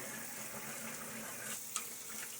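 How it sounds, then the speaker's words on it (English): Water splashes onto a face during a shave with a Gillette Nacet blade in a Timeless SS .68 open-comb razor, a steady close wet hiss of running and splashing water with a small splash near the end, no talking. "I can do a little water splash on my face."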